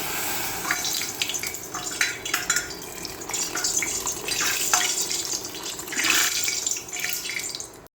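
Water poured into a hot pan of cooking oil hisses and sizzles loudly and steadily, with bursts of crackling spatter and some stirring rising and falling throughout, close and with no talk.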